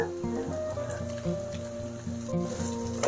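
Onions, curry leaves and fenugreek leaves fry in a pan with a steady, close sizzle, and a soft tonal melody plays underneath.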